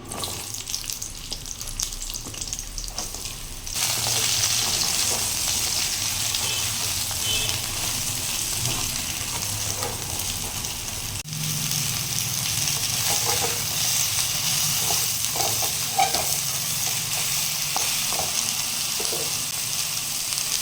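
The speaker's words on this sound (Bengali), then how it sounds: "এবার আমি কড়াতে দিয়ে নেবো আর একটুখানি তেল এবার আমি এখানে ঝিঙেটা দিয়ে নেবো" Ridge gourd sizzles steadily in hot oil in a wok, a continuous crackling fry that grows louder partway through and runs on without talk.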